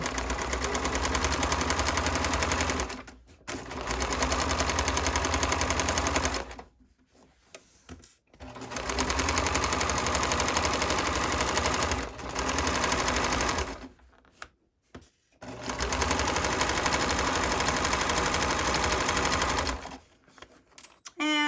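A sewing machine stitches a tote bag seam in long, loud, rapid runs, broken by short pauses and quick stops where the fabric is adjusted.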